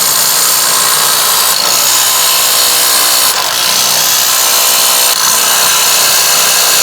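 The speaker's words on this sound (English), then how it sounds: "Moving on to the DeWalt, impacting all 4 on." A DeWalt impact driver runs in a head-to-head impact test against Ryobi and Ridgid tools, giving a loud, steady high-pitched whir with brief dips roughly every two seconds as it hammers.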